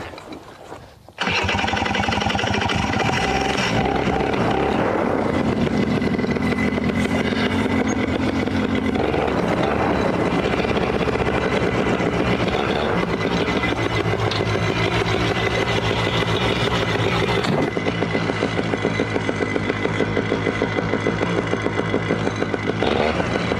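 A paramotor's engine and propeller fire up and run at a loud, steady drone for over twenty seconds, close by, with a slight shift in pitch partway through and no talking over it.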